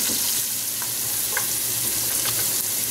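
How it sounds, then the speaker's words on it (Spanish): Chopped onion sizzles steadily in hot oil in a pan while cooking for smoked-rib lentils, a dense continuous frying hiss with a few faint stirring clicks, close and fairly loud, no voices. "vamos a echar la cebolla. Dejamos que dore por espacio de un par de minutos."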